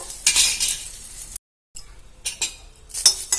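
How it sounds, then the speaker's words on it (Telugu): Chillies fried whole in a spoonful of oil for a brinjal and cucumber chutney, giving a crisp sizzle with bursts of crackling and a few metallic spoon clinks, briefly broken by a silent gap. "చూడండి మిరపకాయలు అయితే కొంచెం వేగాలని చెప్పినా కదా"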